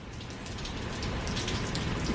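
Heavy hurricane rain pours down in South Florida during Hurricane Irma, a dense, steady roar of drops pelting surfaces with no break across the whole stretch.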